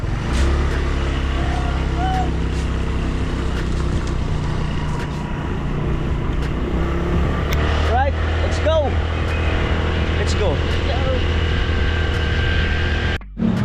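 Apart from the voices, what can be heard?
motorcycle engine riding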